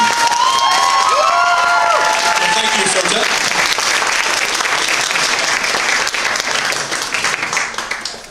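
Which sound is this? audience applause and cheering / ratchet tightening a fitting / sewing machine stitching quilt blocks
audience applause and cheering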